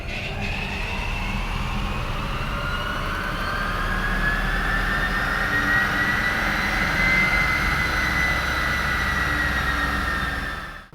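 Tesla-swapped Mustang electric motor run at full power on a dyno, a loud continuous whine that rises steadily in pitch alongside rushing roller and tire roar, then cuts off abruptly at the end.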